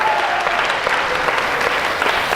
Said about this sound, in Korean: 이거 잘 넘길 수 있도록 우리 박수 한번 하겠습니다.